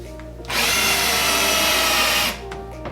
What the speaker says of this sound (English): we're countersinking just enough for that number 8 screw to just lay flat.